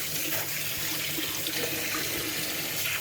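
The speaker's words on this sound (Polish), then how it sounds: "dzisiaj wezmę je przepłukam sobie chłodną wodą" Cold tap water runs steadily into a sink over salted squid rings being rinsed, a continuous close splashing hiss with no talk.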